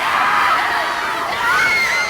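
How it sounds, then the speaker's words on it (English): Crowd of people screaming and shrieking in a dramatic scene from The Walking Dead: The Ones Who Live, a dense, loud, continuous wall of panicked voices with no pauses. "Dude, the screams."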